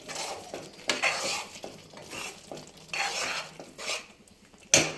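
Egg curry with coriander powder and garam masala being stirred in a pan, a spoon scraping and clinking against the metal in repeated strokes over a soft sizzle, with a sharper knock near the end.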